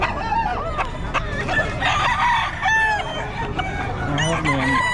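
Chickens and roosters at a roadside poultry seller cluck and crow in a busy, overlapping chorus, with several nearby crows rising above steady clucking throughout.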